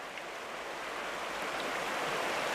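Fast-flowing river water rushing over rocks in a trout stream, a steady broadband roar that stays loud and unbroken.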